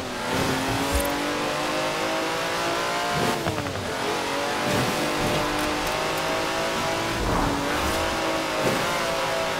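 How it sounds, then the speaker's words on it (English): A 90-year-old racing car drives in the Forza Horizon 4 video game, its engine revving continuously and loudly with shifting pitch, swells of acceleration and brief tire squeals, no talking. "That's a 90-year-old racing car."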